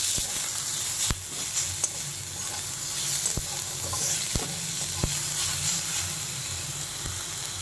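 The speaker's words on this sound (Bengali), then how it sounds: "আমি এই সময় আদা রসুন এগুলো দিয়ে দিলাম চলে এটা হালকা করে নেড়ে নিই" Ginger, garlic, onion and green chilli fry with whole garam masala spices for a homemade chicken stew, a soft continuous hiss of oil with occasional sharp clicks of a spoon stirring the pan, close and steady with no talking.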